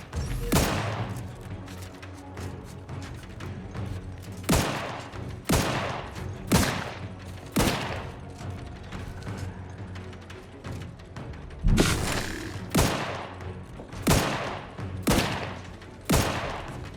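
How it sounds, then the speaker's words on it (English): Gunfire in the video game Outer Worlds 2: a string of loud, sharp shots in irregular bursts, some single cracks and some rapid clusters, with a boomy tail on each. "Why are you shooting?"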